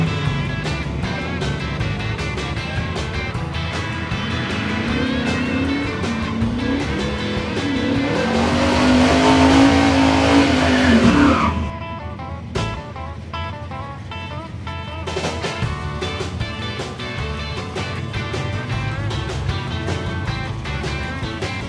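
At a drag strip reunion event, a Chevy pickup with traction trouble launches. Its loud engine roars and builds for about ten seconds with a whining tire or drivetrain tone, then cuts off abruptly before a second, quieter run of engine noise.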